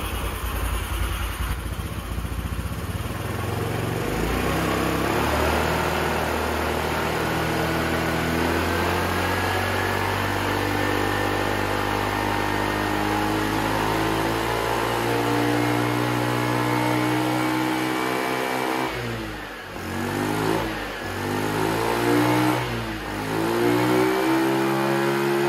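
A cheap Chinese scooter engine fed from a cup of gas runs steadily close by, its small motor droning and revving with rising pitch, briefly dipping near the end before picking back up.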